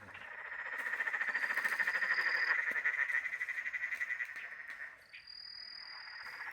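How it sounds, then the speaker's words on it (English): Australian campsite frog chorus of leaf green tree frogs, Peron's tree frogs and banjo frogs, a dense, continuous high trilling croak close by with a few sharper calls layered over it and no talking. "And it seemed like we were just surrounded by frogs."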